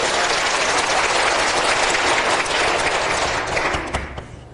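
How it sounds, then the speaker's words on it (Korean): A church congregation in Busan applauding, loud, sustained clapping from a large crowd that fills the room and then tapers off near the end. "우리 하나님께 감사의 영광의 박수 힘차게 하고 싶다."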